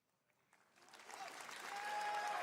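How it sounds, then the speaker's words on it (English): An audience clapping, beginning faint and swelling into steady applause that holds at full volume to the end. "Stop clapping."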